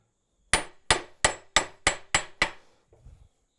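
Seven sharp, ringing hammer blows in an even rhythm, close and loud, clinching a forged planishing stake so its shoulders seat in a vise, followed by a faint scuffling rustle.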